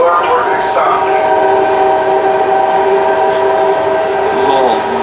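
A BART train pulling into the SFO airport platform, loud steady rail rumble with sustained horn-like tones and screeching wheel harmonics throughout, voices faintly present.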